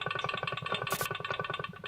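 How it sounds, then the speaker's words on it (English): A Teflon supercharger off a rally car is turned by hand, giving a fast, evenly repeating whirring clatter with a regular pulsing rhythm, close and fairly quiet, with a brief hiss partway through and no talking. "Teflon supercharger that was on the car sounds like this."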